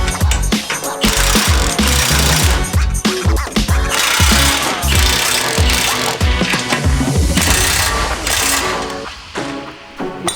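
A power tool tightens the bolts on a Jeep JL Wrangler skid plate, giving loud close bursts of rattling, hammering impacts with clanks of metal, in an uneven rhythm throughout.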